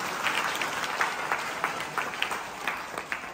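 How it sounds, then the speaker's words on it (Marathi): Audience applause at a village welcome for a Warkari dindi palkhi procession to Pandharpur, a dense, steady patter of many hands clapping at moderate distance, with no talk. "त्याबद्दल सगळ्यांनी एकदा टाळ्या वाजवा"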